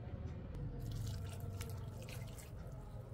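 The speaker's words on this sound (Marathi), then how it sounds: "दूध आपण थोडं थोडं टाकत मिक्स करूया।" Warm milk trickles into cake batter, a soft, faint, continuous liquid pour with light dripping, heard close with no talking.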